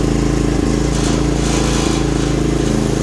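Small diesel engine on a Hightop HT10 one-ton mini excavator running at high revs with the throttle opened, a steady loud, close drone with a rhythmic pulsing beat and no voices.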